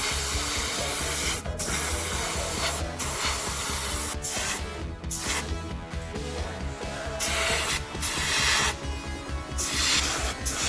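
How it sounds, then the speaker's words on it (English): Tamiya gunmetal spray paint hisses from a can onto the body of a Mercedes W124 Coupe scale model car, in repeated close, loud bursts separated by short pauses. "I began applying the color using the same technique as when I primed the model, focusing on the hard-to-reach areas first"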